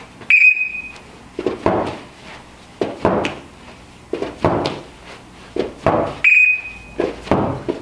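Sharp electronic workout timer beeps at the start and end of an interval, with rhythmic thuds of a pummel ball slammed down between overhead lunges and jump switches in a gym.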